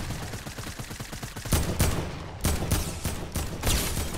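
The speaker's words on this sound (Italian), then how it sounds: "Io sto provando, aia. Sparo dall'altra parte." Rapid gunfire in a battle royale video game: quick bursts of shots, then three heavier, louder blasts spaced about a second apart, with no talking over them.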